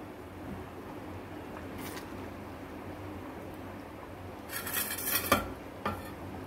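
Paneer and peanut gravy are stirred in a pan, with a low steady simmering hiss broken by a few sharp clinks and scrapes of a utensil against metal near the end, heard close and without speech.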